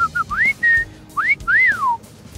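A person whistles a few quick notes, short chirps and then rising and falling sliding tones, clear and close with brief gaps between them and no talking.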